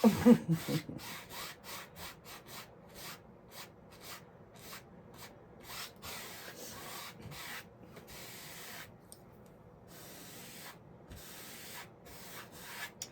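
Oil paint being rubbed and blended on a 16x20 canvas for a seascape: a steady, rhythmic scrubbing swish of cloth or brush strokes, close and moderately loud, slowing and softening toward the end.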